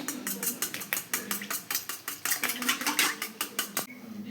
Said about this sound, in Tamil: லைட்டாக சால்ட் போட்டு நல்லா கலக்கி விடணும்